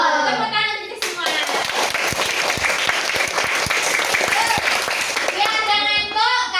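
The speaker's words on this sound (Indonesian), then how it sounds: "Tepuk tangan untuk semua." Classroom students in a teaching practice session applaud together, a dense, loud burst of clapping lasting several seconds, with a teacher's voice heard just before and after.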